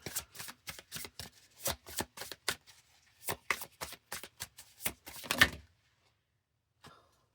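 Tarot cards are riffled and shuffled in quick, crisp bursts of papery snaps, a steady rhythm of close, clear shuffles ending with a final flurry, then a card softly drawn after a pause.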